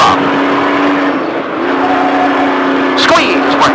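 Trophy truck engine pulling hard on throttle during a Speed Vegas off-road driving session, a steady loud drone with a brief rev change near the end as a coach talks over it.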